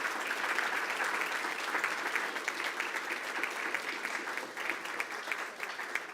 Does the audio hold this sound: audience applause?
yes